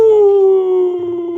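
A person imitates a wolf howling, a loud, close, sustained tonal wail that slides slowly downward in pitch and wavers near the end.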